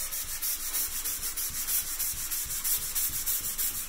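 A hand sanding block works over drywall joint compound along a plasterboard tape joint, making a close, continuous scratchy rasp with a quick back-and-forth rhythm and no talk.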